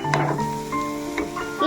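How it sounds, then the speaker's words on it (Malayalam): Carrots and onions sizzle and fry in a pan while being stirred, a loud, close, steady hiss with a few quick stirring scrapes over a brief moment, no talking. "ഇളക്കി കൊടുക്കാം."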